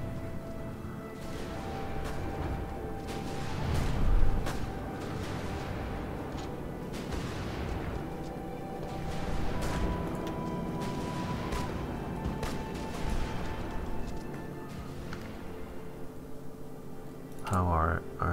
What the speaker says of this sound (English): Oh, we even have shore bombardment.